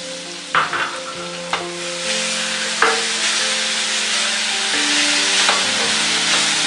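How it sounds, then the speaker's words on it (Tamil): Beetroot sautéing in ghee in a pan for a Tamil beetroot kolukattai filling, a steady close sizzle broken by a few sharp scraping stirs and clinks of a spatula, with no talking. "பீட்ரூட்டை நெய்யில் நல்லா வதக்கி எடுக்கணும்."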